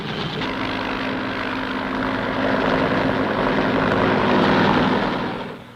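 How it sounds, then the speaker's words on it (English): Helicopters lift troops and artillery into the hills around a besieged Vietnam War base at Khe Sanh, a loud steady rotor and engine roar that swells slightly toward the end before fading, with no talk. "Fleets of helicopters lift men and artillery into the hills surrounding the base."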